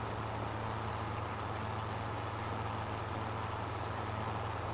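Steady tractor engine drone from the Farming Simulator 25 video game, a low continuous hum holding even and moderately loud with no talking over it.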